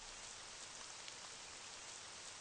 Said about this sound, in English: It's raining in the room.